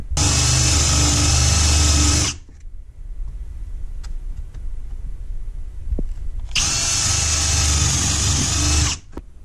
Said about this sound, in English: this is a 7/8 or a 22 millimeter drill bit